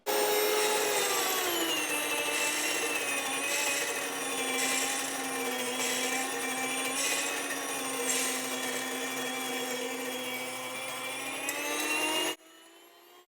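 An electric grain mill grinds hard red wheat at a medium setting, a steady loud whirring drone that runs unbroken for about twelve seconds before cutting off abruptly.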